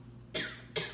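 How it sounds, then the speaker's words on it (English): Two short, sharp coughs in quick succession, close and fairly loud, over a quiet low hum during a breathing and meditation session. "Cough."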